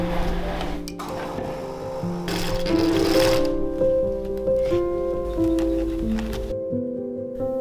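A sewing machine stitches cotton and tulle dress layers, running in bursts of rapid mechanical whirring with brief pauses and a few clicks in between, close and fairly loud.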